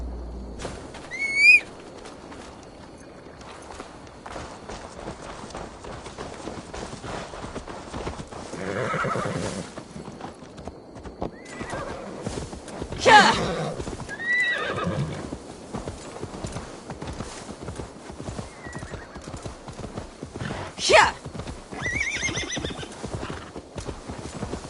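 In Assassin's Creed Valhalla, a horse's hooves clip-clop steadily over the ground, with several distinct whinnies and neighs breaking through at moderate distance, while birds chirp and wings flutter in the background.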